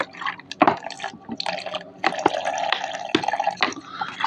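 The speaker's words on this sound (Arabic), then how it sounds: "هحط معلقه خل اهو" A spoonful of vinegar goes into homemade orange cake batter, making short wet splashes and dripping, squishy liquid sounds in uneven bursts, close and moderately loud.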